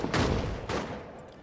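Dense, rumbling bursts of artillery fire in a video game battle, two heavy volleys rolling into each other, loud and close with no break in the noise.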